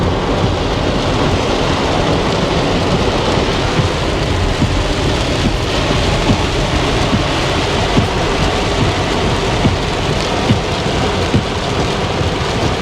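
Downpour in downtown Kingston, Jamaica, near Tivoli Gardens: a loud, unbroken wash of rain hiss and splatter, with possible low rumbles of thunder beneath, and nobody speaking.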